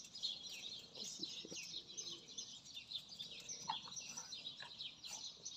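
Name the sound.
birds singing outdoors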